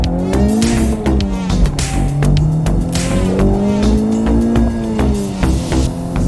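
Honda Civic Type R, turbocharged front-wheel drive, accelerating hard in Sport mode, its engine note climbing loudly through the revs with a brief gear-change dip, heard close from inside the car.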